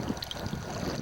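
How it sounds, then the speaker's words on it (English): Paddling a fully loaded Klepper Aerius I folding kayak in a light wind among sea ice in an Arctic sound, with soft water swishes and splashes under steady wind rumble on the microphone. "I'm paddling a fully loaded Klepper Aerius I"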